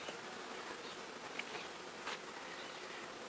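Honey bees buzz steadily around a hive frame in a dense, continuous hum with occasional louder passes close by; no one speaks.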